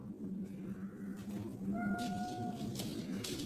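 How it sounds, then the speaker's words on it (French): A pet cat gives a short, fairly faint meow partway through, heard over a low, steady room rumble. "Ça c'est minou."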